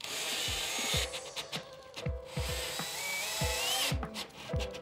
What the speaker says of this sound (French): je vais quand même visser un petit peu plus serré